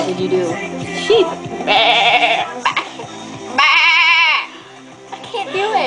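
A person imitates a sheep with two loud, wavering bleats, each lasting about a second, separated by ordinary talking and laughter from people nearby.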